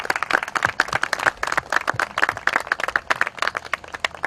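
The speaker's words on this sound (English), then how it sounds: "Please join me in giving them a round of applause." Audience applause at a school ribbon-cutting and dedication ceremony, honoring the school board president and vice president: a steady run of many hands clapping, moderately close and fairly loud, continuing throughout without voices.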